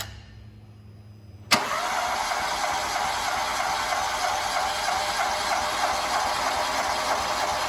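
A Volkswagen Gol G6 engine spins on the starter during a compression test, with the faulty engine cranking steadily and loudly after a sudden start and running on without a pause, close up with no talk.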